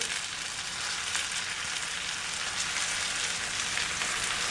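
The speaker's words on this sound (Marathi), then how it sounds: "आता आपण ही वांगी यामध्ये घालून घेतो" Stuffed brinjals are dropped into a hot pan and sizzle in a dense, even hiss of frying that carries on without a break, with no talk over it.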